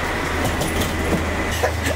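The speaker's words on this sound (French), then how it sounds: "on va prendre le petit bus" Inside a small shuttle bus on the move, a constant low engine rumble and road noise fill the space, with faint rattles and shifting hum over a short stretch.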